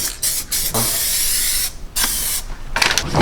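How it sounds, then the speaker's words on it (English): Aerosol spray can laying primer and paint inside an OBS Ford truck interior during a rebuild, several bursts of close, loud hissing with short gaps between them and no voices. "prep and lay down some primer and then do some paint"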